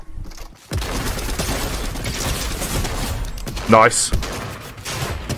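Fortnite Zero Build trios match with steady shotgun gunfire and bursts of other weapons crackling through the fight, including a sharp whistling blast near the end, while players talk quickly over the action.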